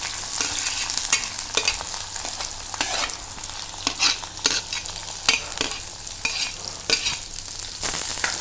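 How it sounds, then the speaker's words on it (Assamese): Onions frying in hot mustard oil with whole mustard seeds and a chili, sizzling and crackling up close while a utensil stirs and scrapes the pan in frequent strokes, with no voices. "এতিয়া মই পিঁয়াজখিনি অকণমান ৰঙচুৱা হোৱাকৈ ভাজি লওঁ।"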